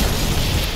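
A deep, sustained blast rumbles through the survival horror game Resident Evil 2 Remake, a loud, dense burst lasting under a second with no voices over it.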